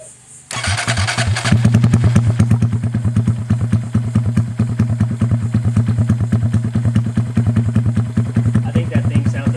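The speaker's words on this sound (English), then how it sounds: "So let's go ahead and get started with this cold start." A 2022 Honda Grom motorcycle with an Amazon aftermarket exhaust cold starts after a brief crank, then settles into a loud, close, rapid-firing idle that chugs steadily and alone for several seconds.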